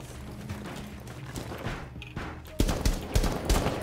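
Siege wall reinforcement in Rainbow Six Siege, a brief metallic clank and thud amid faint game ambience, followed by louder close clattering impacts.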